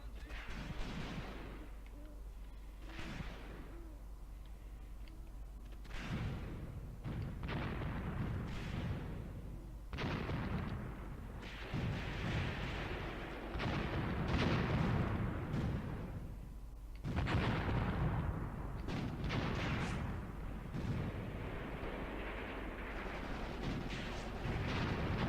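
Heavy battlefield gunfire in the Graviteam Tactics war game: dense, repeated shots and booming blasts come from many directions, some near and loud, others distant. They overlap in irregular bursts throughout with no pauses.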